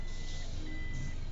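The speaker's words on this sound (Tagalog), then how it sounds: "mabilis masyado Lem yung atras mo" A car backing up during a driving lesson sounds a steady, faint electronic reversing beep over a low engine hum, with no one talking.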